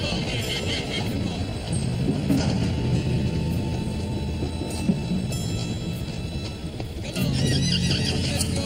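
Several wild horses neigh over continuous hoof clatter and rumbling movement, a shrill whinny rising near the end against a steady, noisy backdrop.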